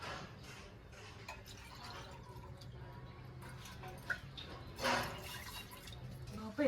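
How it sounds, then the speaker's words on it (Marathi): Water is poured into a pot for boiling eggs in a backyard cooking setup, giving soft, faint trickling and a few brief splashes near the end. "पाणी टाकूया."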